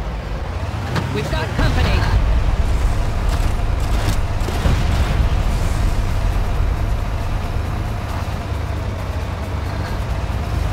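A car driving in the 2004 Far Cry game, with a loud steady engine rumble under constant talk and a few bursts of gunfire or impacts near the start.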